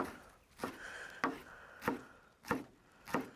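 A knife chops flat-leaf parsley on a board for chimichurri, with about six crisp, evenly spaced strokes landing roughly every half second, close and clear with no talking.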